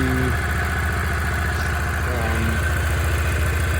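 A Seat Altea FSI engine idles steadily and smoothly at close range, a continuous low rumble with no voices.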